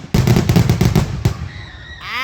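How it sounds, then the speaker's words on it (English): Carnival fireworks on the final night, a rapid run of loud popping bursts and crackles close by for about a second and a half, fading into a faint whistling, rising tail. "And that was the Carnival fireworks."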